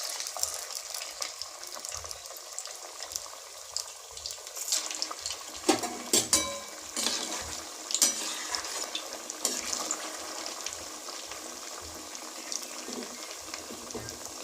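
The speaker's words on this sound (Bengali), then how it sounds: "তেল গরম হয়ে গেছে, এক একটা করে ছেড়ে দিচ্ছি।" Semolina rasapuli pithas, a Bengali sweet, frying in hot oil in a karahi: a long, moderately quiet sizzle with intermittent crackling bursts and occasional louder splashes, steady throughout with no voices.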